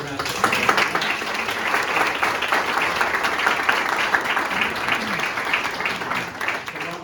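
An audience at a state comptroller's public appearance in Kingston breaks into full, enthusiastic applause, a loud continuous wash of clapping that holds steady for several seconds, with faint voices mixed into the crowd noise.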